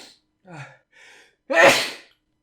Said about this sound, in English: And that's a sneeze.